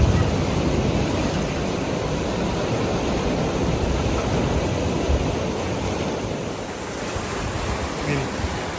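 Water rushes loudly and continuously on a river rapids ride at the Energylandia amusement park, a dense, steady roar heard close by with some wind buffeting.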